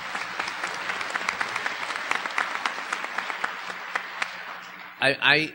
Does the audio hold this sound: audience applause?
yes